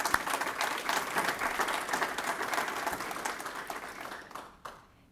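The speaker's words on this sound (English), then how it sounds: "we'll give her a round of applause" Applause from a university faculty convocation audience, a steady round of clapping that fills the hall for several seconds before thinning out and stopping near the end.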